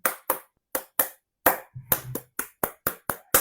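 A single person claps a rhythm example for a music lesson, about a dozen sharp, close hand claps in an uneven pattern with short pauses between groups.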